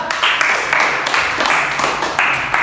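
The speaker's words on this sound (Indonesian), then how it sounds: "Oke, tepuk tangan buat teman." Classmates clap for a fellow student in a university micro-teaching class on Islamic religious education; dense, steady hand clapping from a small group fills the room, loud and continuous without pause.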